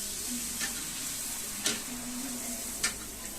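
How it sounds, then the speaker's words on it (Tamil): Poori frying in about a litre of hot oil, a steady close sizzle and bubbling with a few sharp clicks, no talking. "எண்ணெய் நல்லா சூடானதும் பூரியை போடலாம்."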